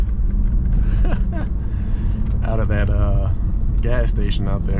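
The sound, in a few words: car accelerating hard out of a gas station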